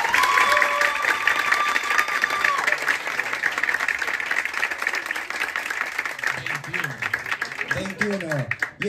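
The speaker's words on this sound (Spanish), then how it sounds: "Aplausos, solo aplausos para el bizcochito." Audience applause at a live improv competition show, dense clapping and crowd noise with a voice speaking over it and brief musical tones near the end.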